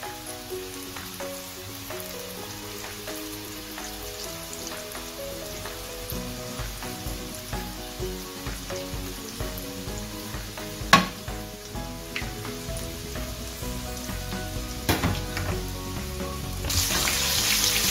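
Molen pastries fry in hot oil, a steady crackling sizzle with scattered pops and an occasional louder clack of a utensil, close and continuous.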